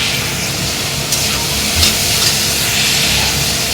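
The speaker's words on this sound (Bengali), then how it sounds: "তার জন্য সবজিগুলো ভেজে নিচ্ছি" Vegetables fry for fried rice in a hot pan, giving a loud, steady hissing sizzle with slight surges as they are stirred.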